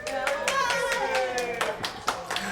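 Applause from a live studio audience on a book chat show, a steady patter of claps mixed with scattered voices and laughter at moderate level, with a few sharper louder claps standing out near the end.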